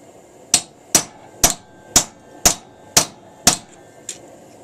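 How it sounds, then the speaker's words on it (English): A sheet metal body hammer with a pointed face strikes a punch during forging work: eight sharp, ringing metallic blows at a steady pace of about two per second, close and loud, with no voices. "This is just a sheet metal hammer for doing body work on cars, but it's got a nice point on it."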